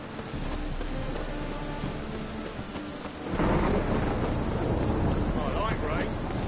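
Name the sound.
rain and thunder in the video game Witcher 3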